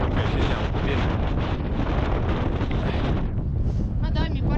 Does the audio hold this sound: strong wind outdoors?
yes